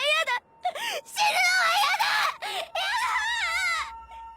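A girl's high, wavering screams and wails in an anime, several loud cries in a row with short breaks between them, close and intense.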